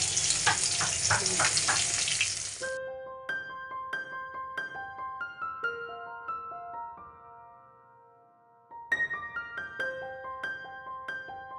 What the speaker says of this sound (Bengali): আর এই যে আমার মাছ ভাজা হয়ে গেছে, নামিয়ে নেবো এখন।